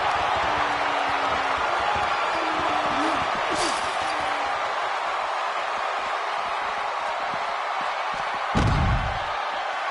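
Arena crowd noise from the WWE 2K17 wrestling video game, a steady roar of cheering that persists throughout with scattered impacts and a thump near the end.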